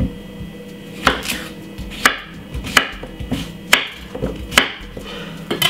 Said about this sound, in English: I have almost a whole cucumber right here. Now what I'm going to do is cut it up